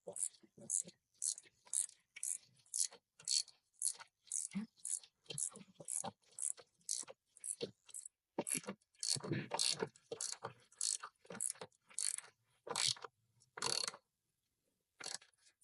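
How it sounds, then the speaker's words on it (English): A socket wrench ratchets steadily as it screws in the mount for a Vego retractable hose, giving a long run of quick, close clicking bursts in a regular rhythm with brief pauses. "taking my socket wrench and screwing it in"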